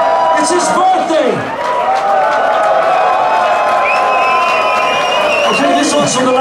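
A hot concert crowd at a live rock show cheers and applauds continuously with whoops. The noise stays loud and full throughout and swells again near the end.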